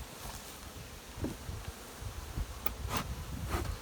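Honey bees hum in a steady, dense buzz close by at an opened hive during requeening, with occasional louder passes of individual bees rising above the drone.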